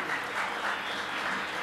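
An audience at a kirtan performance claps steadily, a short, even stretch of moderately loud applause with no voices over it.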